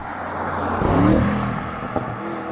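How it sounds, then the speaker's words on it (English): An Audi RS 6 Performance produces a loud, close engine and exhaust note that swells and fades over a couple of seconds, with a sharp pop near the end. "Tons more pops and bangs."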